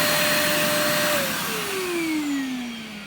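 An 800W vacuum cleaner runs in blower mode with a loud, close, steady whine whose pitch drops partway through and then slides slowly lower as the airflow changes, with no speech.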